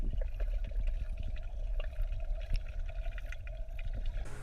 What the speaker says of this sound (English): a lot of splash, and a lot of bubbles.